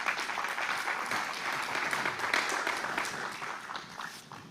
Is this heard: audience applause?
yes